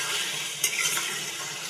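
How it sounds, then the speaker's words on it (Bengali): Palak gosht being stirred with fried potatoes, garlic and green chillies in a pan, a soft continuous sizzle with a brief scrape of the spoon partway through, close and quiet. "ভালো করে সব কিছু মিক্স করে নেব আলুর সঙ্গে।"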